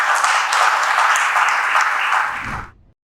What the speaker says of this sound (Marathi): जोरदार टाळ्या पुन्हा एकदा